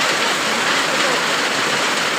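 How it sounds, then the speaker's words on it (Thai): Heavy rain pours down outdoors, a loud, dense, steady hiss of water striking surfaces with no pauses, close by and continuous throughout, without any voices. "คักหลายฝนตกยามนี้"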